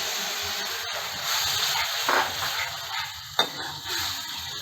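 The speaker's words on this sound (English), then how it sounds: "add the tamarind juice that we extracted" Tamarind juice poured into cooking tomatoes in a pan for a spicy baby eggplant kara kuzhambu curry, giving a steady sizzle and bubbling with stirring, and a single sharp utensil clink near the end.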